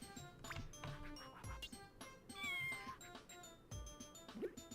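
In the video game Scribblenauts, a picked-up cat lets out a series of drawn-out meows and caterwauls, spaced irregularly over light game music and soft thumps.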